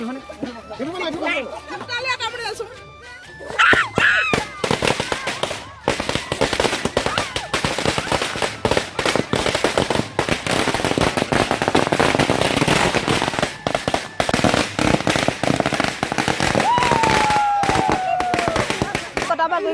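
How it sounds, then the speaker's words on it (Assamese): Strings of firecrackers burst at a wedding in rapid, loud crackling volleys that continue for many seconds, with people chattering nearby before and under the explosions. "এইফালে পুৰা ফটকা ফুটাবৰ কাৰণে পুৰা ৰেডি হৈ আছে"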